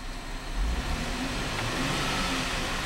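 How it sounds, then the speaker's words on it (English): A white 2010 Cadillac SRX Luxury, running with about 32,700 miles, revs its engine close by, a brief rise in engine roar settling into a steady hum over roughly three seconds. "I'm gonna rev the engine."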